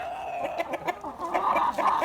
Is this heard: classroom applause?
no